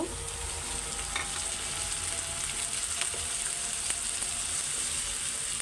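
Bitter gourd frying in a pan, with prawns going in, gives a steady, close hiss and sizzle of hot oil. Faint stirring scrapes break through now and then, and no one speaks.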